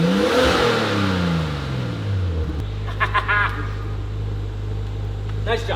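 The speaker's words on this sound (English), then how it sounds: "Sounds pretty stock to me." Up close, the stock exhaust of a Nissan R34 Skyline rises in a short, loud rev that drops away into a steady idle, with a few brief voice-like sounds heard over the rumble.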